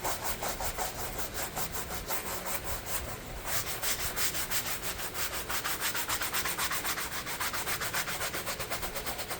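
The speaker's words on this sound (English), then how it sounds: "Use whatever brush you want that's got decent bristles to really get in there and scrub." A stiff-bristled tire brush scrubs a car floor mat with cleaner, making a fast, rhythmic back-and-forth rasp. The strokes are close and steady throughout, with no talking.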